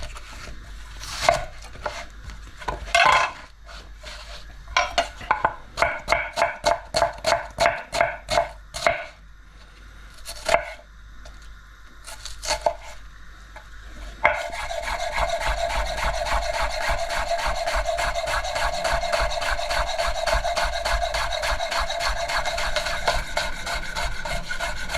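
Knife chopping shallots on a board for a rustic tomato sauce: a run of sharp, rapid cuts with brief pauses, then a continuous sizzling or scraping rasp that fills the rest of the clip.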